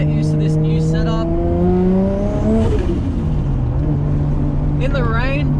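A Nissan Skyline R33 with an RB25DET engine lapping in the rain, with a loud steady engine drone rising and falling through shifts and voices talking over it.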